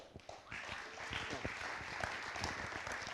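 An audience applauds performers at a live electronic performance in Paris, and the clapping swells into a steady crowd wash under some talking.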